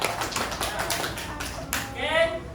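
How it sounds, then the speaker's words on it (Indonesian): Hand claps in a classroom, a short run of sharp broadband taps about half a second apart, followed by a brief voice. "Ya, tepuk tangan lagi."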